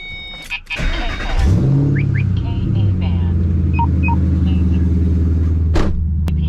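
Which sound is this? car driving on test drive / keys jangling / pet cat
car driving on test drive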